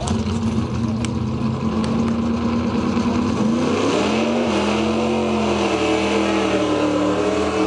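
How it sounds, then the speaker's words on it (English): A Dodge SRT-4 car engine runs steadily, its low hum shifting in pitch midway as it revs slightly, close by and continuous with no voices. "sounds like you got the car fired up back there"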